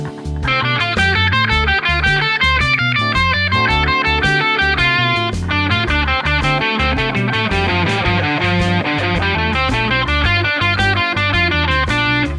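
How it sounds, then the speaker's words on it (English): Distorted electric guitar solo moving stepwise up and down a scale one note at a time, a steady loud stream of quick notes with effects, played without any talking. "They're always playing one note in the scale to the next note that comes up in the scale"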